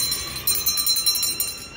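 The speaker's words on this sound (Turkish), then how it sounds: "Sonra videolar için zil aldık." A small bell rings with a bright, shimmering metallic tone, struck several times in quick succession close by.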